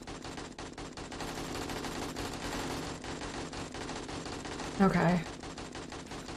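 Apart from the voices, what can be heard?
steady gunfire in the video game 7 Days to Die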